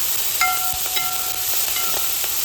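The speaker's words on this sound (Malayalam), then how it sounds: "ഇഞ്ചി വെളുത്തുള്ളി പേസ്റ്റ് നമ്മൾ തന്നെ അരച്ചെടുത്തത് ഇങ്ങോട്ടതിലേക്ക് ഇട്ടു എന്നിട്ടത് മിക്സ് ചെയ്ത് കൊടുക്കുക" Ginger garlic paste, ground at home, is stirred as it fries in a pan for a country-style chicken curry, giving a steady close sizzle with soft scraping strokes throughout.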